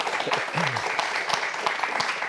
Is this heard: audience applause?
yes